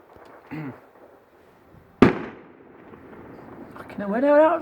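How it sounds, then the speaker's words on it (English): A single loud firework bang at a public fireworks display at Hook Road Arena in Epsom, sharp and close with a decaying rumble, set among quieter pops and crowd voices before and after. "fireworks going off"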